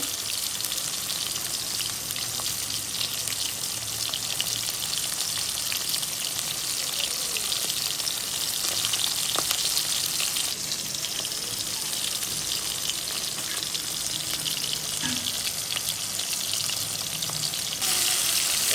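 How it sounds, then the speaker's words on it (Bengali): Fish sizzles steadily in hot oil, with a bright crackling hiss held at an even level throughout, crisp spatters and soft occasional clicks of a utensil. "এই যে মাছ ভাজা হতেছে"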